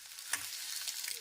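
Egg pepper fry sizzling in a pan on a gas stove, a steady, fairly quiet hiss broken by a few brief stirring clicks, with no talking.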